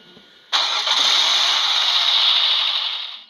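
A car engine starting up in the Roblox game Blox Fruits: a quiet moment, then a sudden loud burst of mid-pitched engine noise that settles into a steady, sustained roar and tapers slightly at the end.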